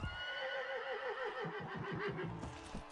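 A horse whinnies loudly and close in the medieval combat game Mount & Blade Warband, a long wavering neigh over galloping clip-clop hoofbeats, with no talking.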